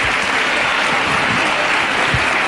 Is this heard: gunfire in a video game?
no